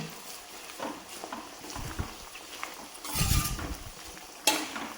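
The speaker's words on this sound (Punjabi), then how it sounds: "ਹੁਣ ਆਪਾਂ ਹਲਾ ਦਾਂਗੇ" A spoon scrapes and knocks in a pan while amla and curry leaves steep in oil for homemade hair oil, a few sporadic soft stirring strokes and clinks over a quiet low hiss.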